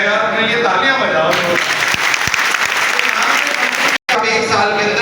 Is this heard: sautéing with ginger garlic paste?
no